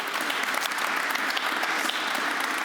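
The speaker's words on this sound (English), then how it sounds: "A little applause for you." A live audience claps at the opening of an event held at a former power plant, a steady, dense round of applause filling the whole stretch.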